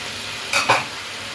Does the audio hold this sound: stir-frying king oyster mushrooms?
yes